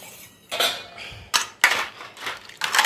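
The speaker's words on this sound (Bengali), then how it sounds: "সব বাসনগুলো এবারে একে একে আমি দিয়ে দেবো এখানে" Brass and bronze utensils are set one by one into a basin, giving several loud metallic clanks and scrapes in uneven succession, close up with no talk.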